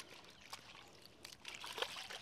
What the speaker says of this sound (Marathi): आपण आता यामध्ये पाणी टाकून घेऊ आणि व्यवस्थित आपण गाळून घेऊ बारीक छाननीने